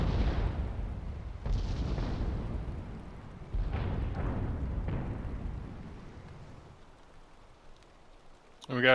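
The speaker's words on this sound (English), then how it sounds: "And we got a Gatling going out" Heavy, booming bursts of rapid fire from a Gatling gun in a video game battle, several rumbling volleys fading toward the end, with commentators talking over the action.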